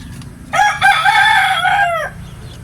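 A single loud rooster crow rings out close by, a drawn-out cock-a-doodle-doo lasting about a second and a half, with no talking.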